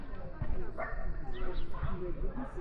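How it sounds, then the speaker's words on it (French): Several dogs bark and yip outdoors at a youth football game, short bursts recurring across the clip amid background voices and crowd chatter. "Il y a plein de chiens."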